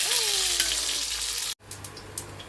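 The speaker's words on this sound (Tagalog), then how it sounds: "Tuloy ang prito." Steady crackling sizzle of Japanese octopus fish cakes frying in hot oil, loud and close, cutting out abruptly partway through, then quieter bubbling with a few soft clinks.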